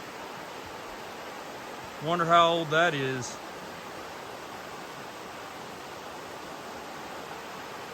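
A crystal-clear creek at Fires Creek in North Carolina flows steadily, making an even, continuous rushing hiss throughout. Someone speaks briefly over it.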